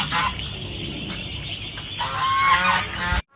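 Several geese honk loudly and close by, overlapping nasal calls over a steady background hum, ending abruptly.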